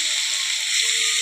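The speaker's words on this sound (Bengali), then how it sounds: "গাজরগুলো একটু ভাজবো" Grated carrots fry in a pan for carrot halwa, giving a loud, steady, close sizzle that runs without a break through the short stretch.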